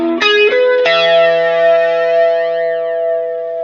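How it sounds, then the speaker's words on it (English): Electric guitar played live through an analog flanger plugin in DP8, a few plucked notes ringing out into a loud sustained chord with a sweeping, whooshing modulation, no voices. "This is the new analog flanger that ships with DP8."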